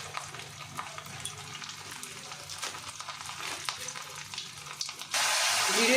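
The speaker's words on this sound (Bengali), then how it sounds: "ফোড়নে দিয়ে দিচ্ছি কিছুটা জিরে আর শুকনো লঙ্কা।" Cumin seeds and dried chillies fry in hot mustard oil in a wok, giving a soft crackling sizzle with light stirring that swells into a loud, sustained hiss at the end.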